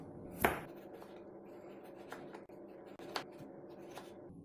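A knife slices a medium-sized peeled potato into very thin slices, giving a few sparse, crisp cuts at low volume over a quiet background.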